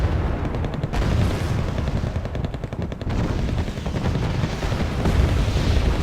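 In a video game, a Bradley armored vehicle is destroyed amid heavy gunfire and explosions: a continuous roar of rapid automatic fire and deep booms, loud and dense throughout, with brief gaps in the firing.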